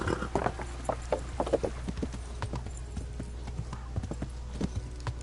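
Horse hooves clip-clop steadily in Kingdom Come, a run of close, regular thuds with a faint whinny-like tone and a low steady rumble underneath.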